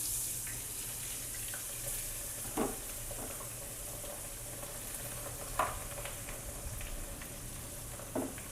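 Gum berries (gunda) tip into a shallow layer of hot oil tempered with asafoetida over a lowered gas flame for a Gujarati pickle, giving a faint, steady sizzle broken by a few soft clicks and scrapes of stirring.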